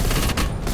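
Rapid gunfire in Call of Duty Black Ops Cold War zombies mode, a loud, dense burst of automatic shots with a brief dip in the middle.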